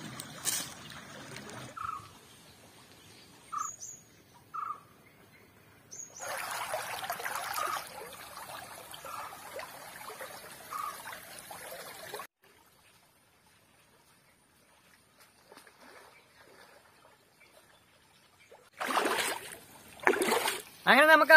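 Water in a small stream with black stones flows and splashes in intermittent bursts, moderately close, separated by near-silent gaps, with occasional talk.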